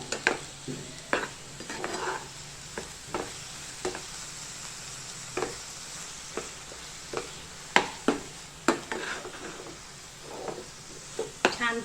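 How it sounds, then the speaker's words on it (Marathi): Sweet modak filling, a coconut and jaggery mixture, is sautéed in a pan. A spoon scrapes and taps against the pan in a steady, irregular rhythm over a soft, continuous sizzle. The sounds are close and fairly quiet, with faint voices in the background. "आता आपण हे सारण छानपैकी परतून घेऊया"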